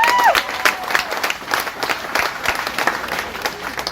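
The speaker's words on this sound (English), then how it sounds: "Give him a round of applause, everybody." A roast battle comedy audience applauds with steady, dense clapping that fills the whole stretch, a few faint cheers mixed in, no talking.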